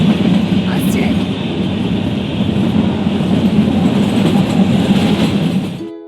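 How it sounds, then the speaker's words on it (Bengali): Shimla toy train pulling away, a loud close steady rumble of carriages with rhythmic rail clatter that cuts off abruptly at the end. "এই ট্রেন সবে মাত্র ছাড়লো"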